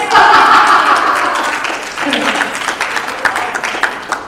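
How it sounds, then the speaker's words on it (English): A crowd gives a round of applause at a community hui, starting as a loud, full burst and then settling into steadier, thinner clapping, with voices faintly audible underneath. "Someone give me a round of applause for that."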